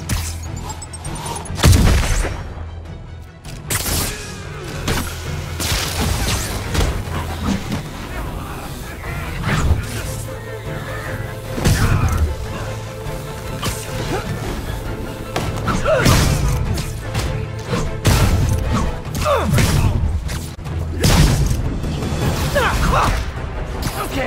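Grenade and combat blasts in Spider-Man PS4, with a run of heavy booms, thuds and whooshes layered through a busy fight, while voices shout over the chaotic mix.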